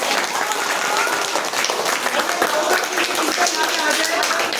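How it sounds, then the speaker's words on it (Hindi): Strong applause from an audience at a children's speech and devotional recitation competition, dense steady clapping that fills the whole stretch at full level. "जोरदार तालियां"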